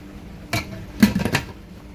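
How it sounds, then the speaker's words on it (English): Shrimp go into a pot of boiling water that already holds sausage for a Low Country seafood boil, making a few short, close splashing and clattering bursts over a low simmering background. "I'll add my shrimp."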